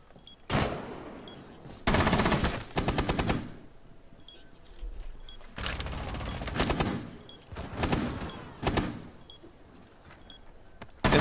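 Automatic gunfire in Rainbow Six Siege, several loud bursts of rapid shots at close range separated by short pauses, with quieter background action between volleys.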